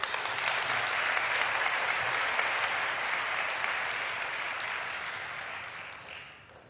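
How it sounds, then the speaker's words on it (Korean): A church congregation at a Korean afternoon service applauds warmly to welcome an elder coming forward to speak: steady, dense clapping that holds for several seconds, then tapers off slightly at the end. "장로님 나오실 때 박수로 크게 환영해 주시면 감사하겠습니다"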